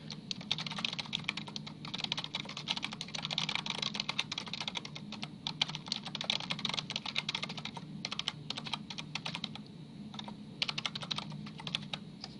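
Steady, rapid typing on a computer keyboard while filling in an online registration form, close and continuous with irregular key clicks and no voices.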